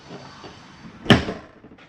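A single door of a 2016 Jayco Octane 272 travel trailer closes with one short, solid thump and rattle, close by and moderately loud, against quiet room tone.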